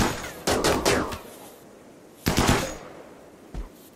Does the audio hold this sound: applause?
no